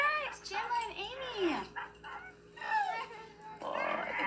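Dogs yip, whimper and bark in high, screechy rising and falling cries, several bursts over a few seconds, fairly close indoors with a low background hum.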